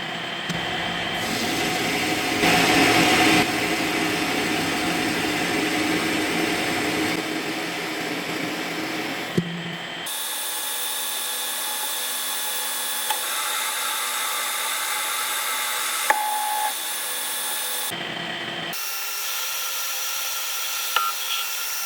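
Colchester Chipmaster metal lathe taking a roughing cut on a metal workpiece: a steady broadband machining whir and hiss running continuously, with brief pauses and slight changes in tone between passes, close and fairly loud, no talking.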